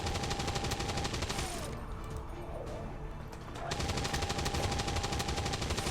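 Rapid automatic gunfire rattles in long bursts during a battle in the video game XCOM 2: War of the Chosen (Long War mod), with a short lull in the middle before the firing resumes.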